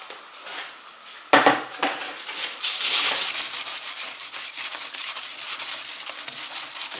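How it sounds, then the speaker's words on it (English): Close, steady back-and-forth scraping of sandpaper against a golf club shaft, a rhythmic gritty rasp that starts after a few soft knocks. "It doesn't take much sanding to prepare these"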